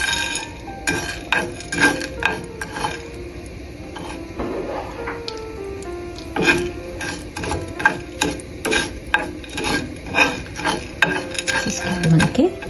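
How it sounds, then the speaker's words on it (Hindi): Black pepper and cumin roasting in a little ghee in a pot, with repeated metallic clinks and scrapes of a spoon stirring against the pot, loud and close, in an irregular rhythm. "इतना थोड़ा सा बस घी डालूंगी, काली मिर्चें और जीरे को भूनने के लिए।"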